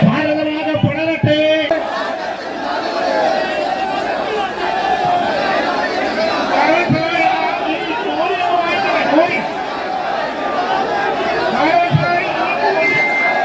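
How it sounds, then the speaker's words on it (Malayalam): A large crowd gathered in Karunagappally town for a funeral procession, a continuous murmur of many voices with shouts and chatter, near and steady throughout. "നഗരത്തിന് ഉൾക്കൊള്ളാൻ കഴിയാത്തത്ര വലിയ ജനക്കൂട്ടമായിരുന്നു കരുനാഗപ്പള്ളി ടൗണിൽ തടിച്ചുകൂടിയത്."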